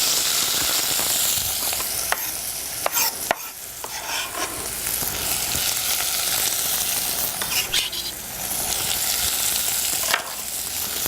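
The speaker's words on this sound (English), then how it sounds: "So I just want frying and braising right away" Ingredients fry in a hot saucepan with olive oil, a steady loud sizzle and hiss with a few sharp clinks and scrapes of stirring scattered through it.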